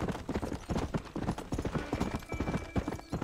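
Horse hooves clip-clopping in the video game Red Dead Redemption, a quick continuous gallop of dense rhythmic thuds at moderate level, with no talking.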